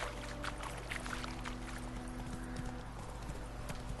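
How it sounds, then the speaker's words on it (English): Horse hooves clip-clopping steadily in the video game The Witcher 3: Wild Hunt, a brisk rhythmic trot over a constant low ambient bed, with no talk. "let's take the horse."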